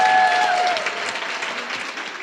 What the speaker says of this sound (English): Let's have a round of applause for Stephanie Skurlock as our MC for tonight.